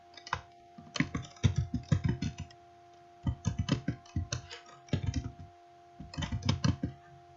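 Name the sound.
typing text on a computer keyboard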